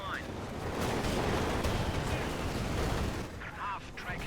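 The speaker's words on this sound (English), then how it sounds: "AT guns are just gonna start opening up fire" Anti-tank guns open fire during a 4v4 Company of Heroes 2 match on the Port of Hamburg map, a dense, continuous roar of gunfire and artillery rumble that fades slightly before a voice speaks briefly at the end.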